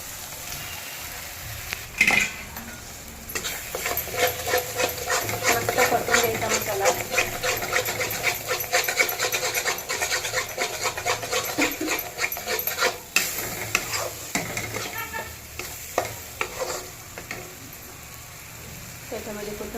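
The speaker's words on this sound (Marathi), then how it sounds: "परतून घेऊया मस्त असं परतून घ्यायचं आहे" Masala for dal karela is sautéed in a pan, with continuous sizzling and frying plus repeated scraping stirs from a utensil, close and steady throughout.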